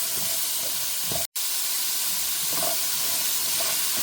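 Turnip sautéing with onion in a pan makes a loud, dense, steady hiss close by, broken only by a momentary cut in the sound near the start.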